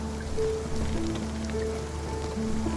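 Steady rain hisses evenly in a video game at night, with a soft constant wash and faint droplet ticks, while low tonal hums drift through the background.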